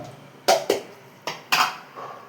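A spoon stirs sukku kulambu in a metal cooking pot, making four or five distinct scraping clanks in an uneven rhythm. The sound is close and fairly loud, with quiet gaps between strokes.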